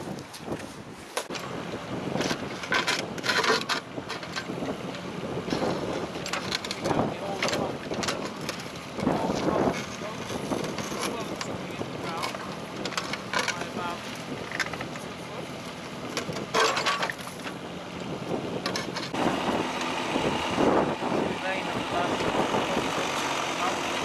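Steady wind gusts across an outdoor site where a fence is going in and concrete is broken up around a post hole, near Coventry, making a constant loud rushing roar that buffets the microphone throughout.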